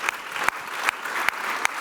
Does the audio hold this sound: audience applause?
yes